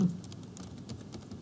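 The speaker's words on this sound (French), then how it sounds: "je vais mettre un mot de passe" Soft, quick keystrokes on a computer keyboard as a password is typed, a light patter of closely spaced clicks at low level throughout, with no talking.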